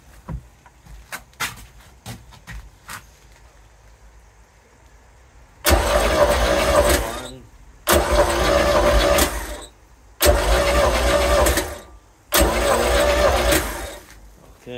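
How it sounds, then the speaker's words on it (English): A MerCruiser 3.0L 120 hp boat engine cranks over during a compression test in four separate bursts of a couple of seconds each, with short pauses between, loud and close, after a stretch of quiet clicking. "So now I'm gonna crank the engine 3 times."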